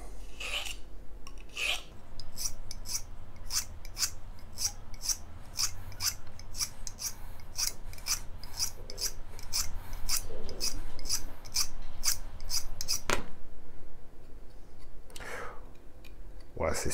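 An Opinel knife blade is sharpened with rapid, evenly spaced rasping strokes, loud and close, running in a steady rhythm with a brief pause near the end before a few last strokes.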